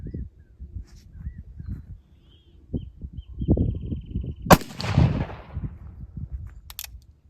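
A single black powder cartridge rifle shot firing a powder-coated semi-wadcutter bullet, a sharp loud crack with a short ringing tail, preceded by quiet handling noises and brief talk outdoors.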